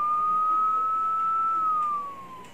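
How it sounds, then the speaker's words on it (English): A police car siren holds a steady, loud electronic wail that drifts slightly lower in pitch and fades near the end, with no other sounds. "from a police car."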